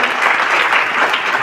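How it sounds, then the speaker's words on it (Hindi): An audience at a district-level school science and teaching-materials exhibition claps loudly to honour the judges, giving a dense, continuous burst of applause. "इसलिए हम अपने जजेस का जोरदार तालियों के साथ सम्मान"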